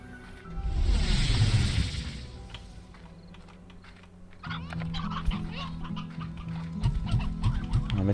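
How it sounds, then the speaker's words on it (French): Chickens clucking in the video game Slime Rancher, with soft clucks and tinny game effects over quiet background music, fairly faint with intermittent clicking. "On va mettre les poules colorées là."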